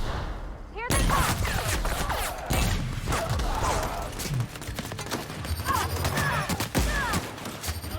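Sustained gunfire from a firefight in The Outer Worlds, dense bursts of shots and impacts running almost continuously at close range, with a voice talking over parts of it.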